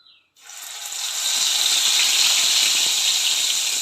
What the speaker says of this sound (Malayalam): ഇനി നമുക്ക് ഈ ഒരു വഴുതിരിങ്ങനെ നമുക്കിതിലോട്ട് ഇട്ട് കൊടുക്കാം.